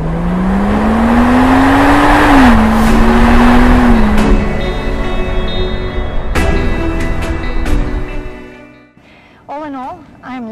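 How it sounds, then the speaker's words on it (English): Rolls-Royce V12 car engine, all-wheel drive and around 600 horsepower, pulling hard with a rising, close roar, then road and cabin noise, a few clicks and a voice near the end. "It does have a V12 engine, a lot of power, 600 horsepower."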